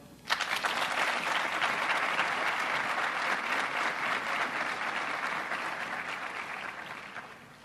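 A crowd bursts into sustained applause at an officer candidate school graduation ceremony, dense and continuous for several seconds before gradually tapering off.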